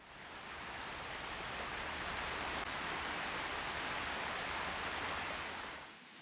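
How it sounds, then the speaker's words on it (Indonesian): Constant broad rushing of the Tirta Rimba waterfall, a steady hiss of falling water heard from some distance, unbroken for several seconds before fading slightly at the end, with no voices. "disertai suara air, yang terdengar dari kejauhan"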